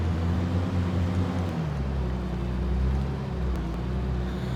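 A Massey Ferguson 7700 tractor engine in Farming Simulator 22 drones steadily at low pitch, its tone shifting partway through as the load changes, with no talk.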